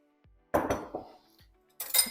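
A spoon mixes very finely chopped salad dressed with mayonnaise in a bowl, giving a few short, quiet clinks and scrapes separated by silence, with no voices.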